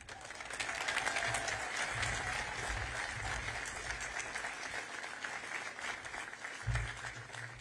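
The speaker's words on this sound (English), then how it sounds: "How about another round of applause?" Audience applause at a statue unveiling for a softball coach, a steady broad wash of clapping that holds at moderate level through the whole stretch, with low rumbling bursts underneath.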